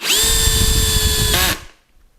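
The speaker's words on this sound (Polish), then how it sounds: "sześć, siedem i nowy odwierc, nowe, nowe wkręcanie, zobaczymy" A Bosch GSR 12V-35 cordless drill-driver drives a screw in one loud, steady whine lasting about a second and a half, pitch dipping slightly near the end before it cuts off to quiet.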